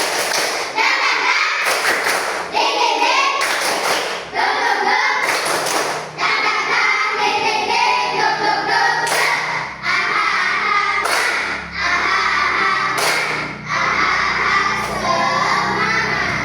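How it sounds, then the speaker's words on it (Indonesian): A classroom of children claps together in a spirit-clap routine, with rhythmic bursts of loud thumping claps in a repeating pattern, mixed with chanting voices throughout. "Tepuk semangat."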